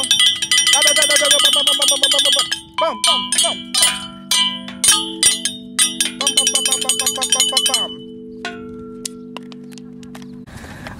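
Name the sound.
bells ringing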